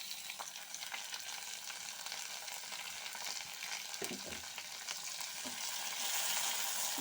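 Chopped tomatoes fry in hot oil with garlic, giving a steady close sizzle with occasional stirring scrapes, the hiss swelling a little toward the end.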